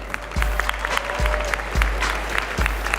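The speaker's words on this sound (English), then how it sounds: "let's give another round of applause for all of our judges here this evening" An audience at the 2014 Miss Universe preliminary competition applauds the pageant judges, with dense steady clapping throughout, moderately loud, plus a few low thumps at regular intervals.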